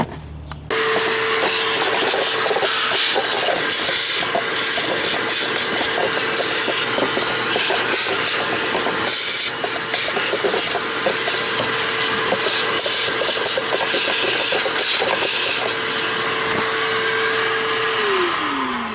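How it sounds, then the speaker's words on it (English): A vacuum cleaner runs steadily while cleaning out a car, a loud continuous whirring roar with rubbing and scraping of the nozzle, its motor pitch sliding down at the end as it shuts off. "I'm gonna get the air compressor going or vacuum, probably a vacuum, and vacuum that crap out."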